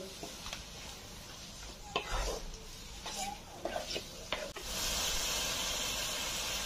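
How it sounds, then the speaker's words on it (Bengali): Grated coconut pitha filling is stirred firmly in a hot pan, with a hissing, steamy background and several scraping strokes, then a louder steady hiss near the end. "এবার ভালো করে আমি নাড়িয়ে নেব। ভালো করে নাড়তে হবে।"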